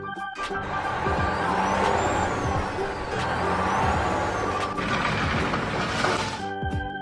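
A heavy container truck rumbles close by with engine drone, hissing air brakes and rattling, steady and loud throughout, no voices.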